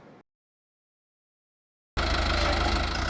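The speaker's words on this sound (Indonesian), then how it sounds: "Sebuah traktor baru tiba di ladang Hello Tractor di Kenya" A new tractor's engine rumbles steadily at a farm field in Kenya, a loud, close, low idling drone that starts abruptly after a moment of silence and holds evenly to the end.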